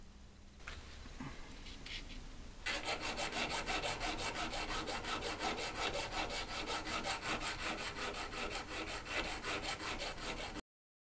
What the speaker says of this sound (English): I'll round all the edges to get a more ergonomic shape